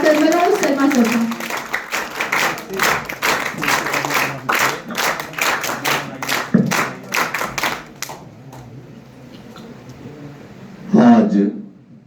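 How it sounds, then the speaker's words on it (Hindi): Audience at a World Wildlife Day seminar in Hazaribagh applauds to welcome the chief speaker, Dr. Manoj Sharma, with dense, loud clapping for about eight seconds, then quiet and a short voice near the end. "एक बार जोरदार तालियों से स्वागत करिए आज के chief speaker doctor Manoj Sharma sir का।"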